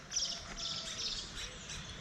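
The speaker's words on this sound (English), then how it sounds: "I don't know if you can hear the birds" Birds chirping and tweeting near a natural reserve by Pueblo Bello, several faint overlapping calls in the background with a few brighter bursts, no talk.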